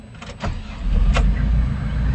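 A car engine cranks and catches, then settles into a steady, loud idle close by, with a brief electric whirr near the start and no talk.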